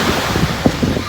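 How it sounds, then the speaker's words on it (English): Strong wind gusting outside a window in Langkawi, a steady broadband rush with surf-like swells and a few louder buffets, fairly close and alone without any talk. "Maybe it's a strong wind because when I look outside my window, it's so windy."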